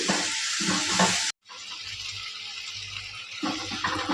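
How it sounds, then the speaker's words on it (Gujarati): Chopped tomatoes frying in a pan for a Gujarati dum aloo, a steady close sizzle with stirring scrapes, a brief cut to silence, then quieter sizzling before the stirring returns. "ત્રણ મિનિટ જેટલું આપણે ટામેટાને શેકીશું"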